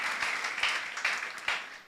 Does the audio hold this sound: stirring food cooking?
no